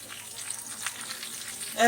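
Ginger and cumin paste frying in a pan for a vegetarian potato and soybean curry gives a soft, steady sizzle at close range, fairly faint throughout.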